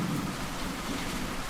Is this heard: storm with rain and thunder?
yes